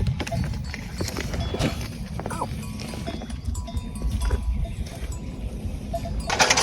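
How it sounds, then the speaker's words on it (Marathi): A bullock cart rolls along with a rhythmic clop of hooves and a rattle of the cart, moderately close, while voices talk nearby. "छकडा जाऊन राहिला आहे"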